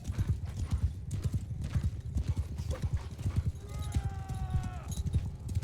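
Khuzait horse archers in Bannerlord: dense, rapid hoofbeats of many horses clattering steadily throughout, with a brief horse whinny near the end, loud and close.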